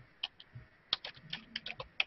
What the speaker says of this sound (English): Molly, would you mind actually typing that URL in the chat channel